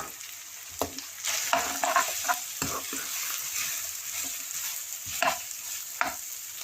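Mushrooms, red and green bell peppers and spring onions stir-fry over medium flame in a pan for pasta sauce, a steady broad sizzle broken by repeated scraping and tossing strokes of a spatula, close and fairly loud with no talking.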